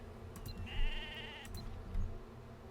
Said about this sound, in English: Kinda sucks that we have a sheep bawling right next to us.